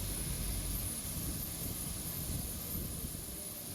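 Steady, loud roar of jet engines fills the air continuously, a broad rumbling whine with a high-pitched hiss on top, from an airliner nearby on the ground at Hyderabad airport.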